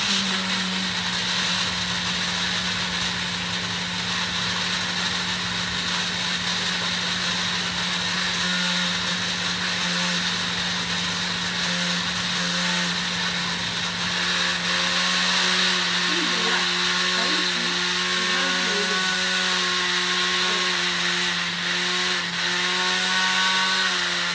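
A steady, loud commercial blender whirs continuously for the whole stretch, with faint voices and clinks in the background near the end.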